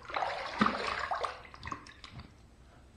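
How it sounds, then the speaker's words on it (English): Water is splashed by hand onto a face during a wet shave, giving a short run of close, wet splashes and trickles that fade to quieter dripping, with no talking. "Let me just add a little more water to my face."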